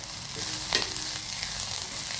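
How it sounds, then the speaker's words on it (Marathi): Onion stir-fries in hot oil in a pan, a close, steady sizzle with one brief scrape of stirring partway through. "कांदा 5 ते 7 मिनिटं लाल होईस्तोवर परतायचा आहे."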